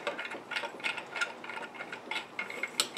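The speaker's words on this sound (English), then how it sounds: "take this piece of all thread through the hole" All-thread rod is turned through a nut on a homemade camera arm, giving a close, quick run of small metallic ticks and scrapes in an irregular ratchet-like rhythm, with no talk.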